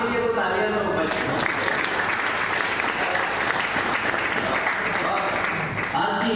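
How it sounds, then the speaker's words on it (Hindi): Steady audience applause at a book launch ceremony and monthly literary gathering in Chennai, dense clapping filling the room throughout with crowd noise beneath, easing off briefly near the end. "इस बात के लिए तालियां तो बजाऊं"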